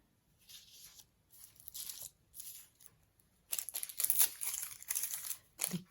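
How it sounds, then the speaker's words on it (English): Crinkly tissue paper crumpled by hand at a collage desk, bursts of crackling and rustling that start in short separated handfuls, then grow louder and denser toward the end, close to the microphone with no talking. "The tissue, crinkly tissue. Do you like that sound?"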